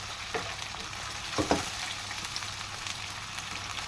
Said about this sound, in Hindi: चिकन को भी मैं कलर चेंज होने तक फ्राई करूँगी।